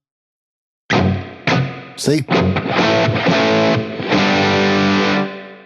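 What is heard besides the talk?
guitar through Wampler Catacombs reverb, darker tone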